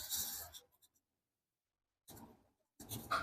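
A pen draws lines on paper for neurographica, giving soft scratchy strokes in three separate bursts with quiet pauses between them.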